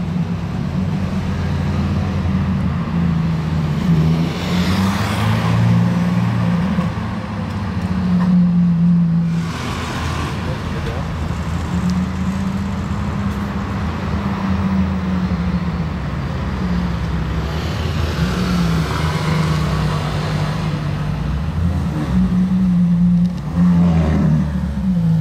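Several Ferrari sports cars circle a roundabout as they leave a workshop, a steady loud engine drone that rises and falls across the clip, with revving swells and cars passing close by.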